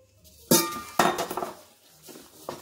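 Metal spoon clanking and scraping inside a 28 cm AEMSE pot while stirring pieces of lamb seasoned with salt and pepper: a few sharp clinks and knocks, with quieter scraping between them, close up and without talk.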